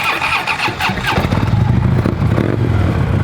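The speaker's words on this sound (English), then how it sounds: "to do a burnout, Dave." Harley-Davidson Road Glide with a 103 engine and bent bars, a totaled insurance-auction bagger, roars through a burnout. The engine rises to a loud, steady, rough roar and holds it close for the rest of the clip.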